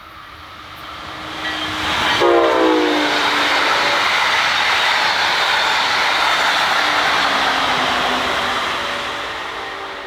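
A Brightline passenger train in a Red Bull Summer Edition wrap rushes past at speed at Suntree Boulevard, a loud sustained roar of wheels and rail with a brief horn blast as it approaches, then fading slightly.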